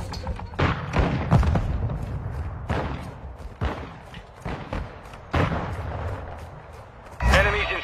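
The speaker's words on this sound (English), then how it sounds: "Tossing frag!" Several heavy explosions and gunfire bursts boom through a Call of Duty: Modern Warfare II hardpoint match, including a frag grenade blast, with repeated thuds spread across the scene and a loud final detonation near the end over battle noise.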